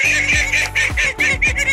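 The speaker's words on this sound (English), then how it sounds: "And here are ducks, very noisy." Ducks at a poultry show honk loudly and close, a rapid series of about six harsh, nasal calls with brief gaps between them.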